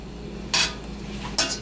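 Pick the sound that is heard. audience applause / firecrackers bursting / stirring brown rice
stirring brown rice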